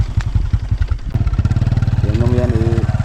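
Motorcycle engine running close by on a rural dirt track, a loud rapid chugging pulse that settles into a steady putter, with a voice speaking briefly over it.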